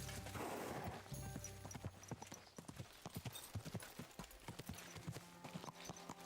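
In Kingdom Come Deliverance 2, a summoned horse arrives with a steady run of close clip-clopping hoofbeats over several seconds, under faint game ambience.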